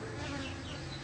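A honey bee colony clustered on the wall of a house buzzes in a dense, continuous drone, close and steady with no other sounds.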